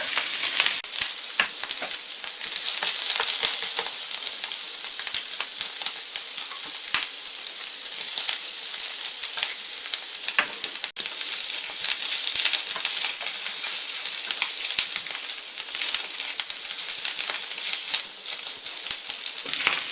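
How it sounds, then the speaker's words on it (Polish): Meat for bigos sizzles and crackles steadily in a hot pan, a dense, continuous frying hiss with occasional louder pops. "Mięso musi być przesmażone, bo daje lepszy smak."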